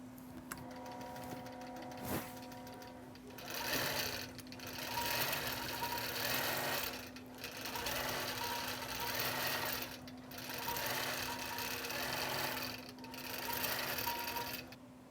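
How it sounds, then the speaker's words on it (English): A sewing machine stitches out pattern pieces for a game board, running in steady bursts of rapid mechanical stitching separated by brief pauses, close and fairly constant. "I will be stitching out my pattern pieces"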